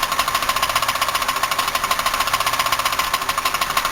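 A Buick 3800 engine runs with its valve covers off, misfiring on at least one cylinder, giving a steady, loud, rapid knocking and ticking clatter that continues evenly without pause.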